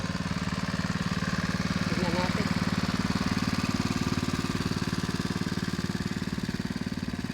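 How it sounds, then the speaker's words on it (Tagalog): A small engine drives a water well pump, a loud steady pulsing chug running throughout at close range, with a brief remark spoken over it. "Yan, mandar pa rin yung makina."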